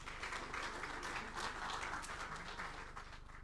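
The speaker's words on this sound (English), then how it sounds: "A round of applause for." Audience applause at an engineering excellence awards ceremony, a steady dense wash of clapping from a crowd that holds for several seconds and tapers slightly at the end.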